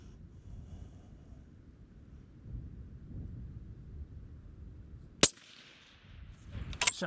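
A Savage Impulse rifle in 300 PRC fires a long-range shot outdoors: one sharp, loud crack cutting through wind noise, followed by a fading rumble and another burst of noise near the end.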